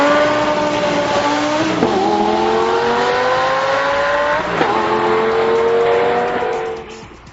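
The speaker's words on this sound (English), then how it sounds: "release any pressure on either pedal, and then stomp on the gas. The thing will depart like a cat on a lighted range." A 2008 Lamborghini Gallardo Superleggera, an all-wheel-drive supercar, accelerating hard: the engine note climbs steeply, drops briefly at two quick gear changes, then keeps rising before fading as the car pulls away.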